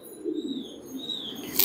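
Pigeons and their chicks on a farm coo softly in short low calls, with a thin higher chirp drifting over them and a brief flutter at the end, near and fairly quiet.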